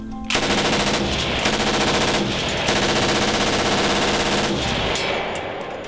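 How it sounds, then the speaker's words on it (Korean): Sustained bursts of K-15 machine gun fire on linked ammunition, loud and close, in three long strings separated by brief pauses, with no voices. "약 70여 발의 링크 탄을 그 사격했는데 이상 없이 잘 나가죠"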